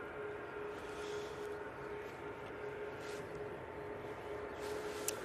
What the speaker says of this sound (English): So this Easyjet's now off to Copenhagen.